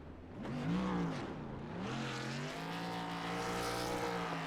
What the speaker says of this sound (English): Does he have enough fuel here to do some burnouts?